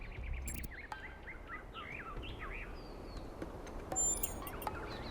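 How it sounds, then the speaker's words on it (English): Birds chirp outside the dome in The Talos Principle 2, with a run of quick, bright twittering calls and short whistled phrases at moderate distance over a steady low ambient rumble. "Do you hear the birds chirping outside the dome?"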